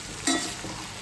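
Brinjal pieces fry in a pan for Roti Pachadi, a steady close sizzle with a brief scrape of stirring partway through.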